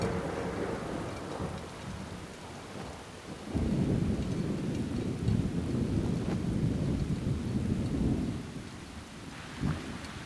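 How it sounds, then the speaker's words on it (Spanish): Steady rain pours while thunder rumbles in Splinter Cell: Chaos Theory, a continuous hiss of rainfall with a deep rolling rumble swelling partway through and a brief crack near the end. "¡Qué bien! ¡Un poco de lluvia!"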